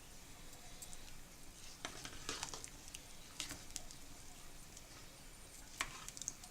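Soft scraping and patter from a spoon stirring a boiling pot of chicken rice with gandules, with a light bubbling hiss underneath and a few sharper clinks scattered throughout.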